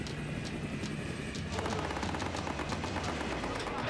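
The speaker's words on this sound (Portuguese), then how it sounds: "Tiros, cuidado! Estão atirando!" Rapid bursts of gunfire from Somali pirates at sea crackle loudly over a dense, noisy background, shifting into a sustained rattling volley partway through.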